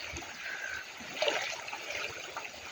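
Hot spring water bubbles up from underground, a faint, continuous trickling and gurgling with small splashy bursts, heard quietly and close.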